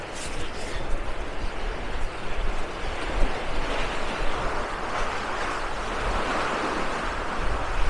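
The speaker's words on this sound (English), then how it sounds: "I'm in gale force wind currently." Gale-force wind on the Swanage seafront roars continuously, buffeting the microphone with a heavy rushing noise, like gusts on an exposed coastline.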